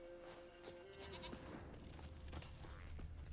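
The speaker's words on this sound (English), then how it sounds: "goat." A goat in The Witcher 3 video game gives a couple of short nasal bleats near the start, heard over a faint game ambience and a low rumble, quiet overall.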